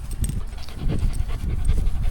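A small mixed-breed dog pants close by in steady rapid breaths for about two seconds, with no talking over it.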